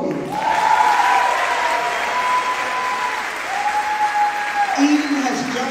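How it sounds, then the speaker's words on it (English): Audience applause at a school award ceremony, a steady broad wash of clapping throughout, with a sustained tone and a few voices faintly audible underneath. "help me to give this young lady a round of applause"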